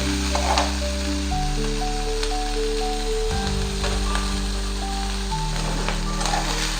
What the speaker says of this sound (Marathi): शिमला मिर्च आणि कांदा थोडासा परतून घेऊया आपण।